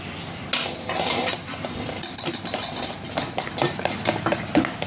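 Cardamom powder is mixed into a biscuit cake batter, with a utensil scraping and clinking steadily around the bowl in a continuous, busy stirring rhythm. It is close and fairly loud, with no talking.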